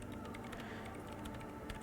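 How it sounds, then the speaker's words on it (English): Rapid keyboard typing from the video game Disco Elysium The Final Cut: a quiet, steady stream of light key clicks runs continuously without any speech. "She clocks up her typing speed."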